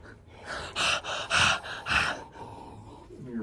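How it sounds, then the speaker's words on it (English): Heavy, forceful breaths blown close into a camera microphone while thrifting, several loud gasping bursts in quick succession, then softer breathing trailing off. "I'm like breathing so hard into the camera."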